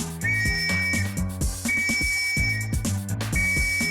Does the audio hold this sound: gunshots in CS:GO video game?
no